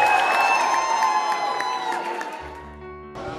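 A crowd at a university ball cheers, whoops and applauds together, loud and close, with voices shouting through the noise before it thins and quietens near the end.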